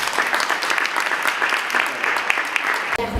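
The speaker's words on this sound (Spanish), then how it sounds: "damos un aplauso al equipo 1." An audience at a panel talk on inclusion gives a short burst of steady, dense clapping for a team, close and lively, cutting off abruptly after about three seconds.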